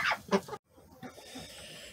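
Turkeys on a farm with quail make two short gobbling calls up close, followed by faint rustling and quiet background noise.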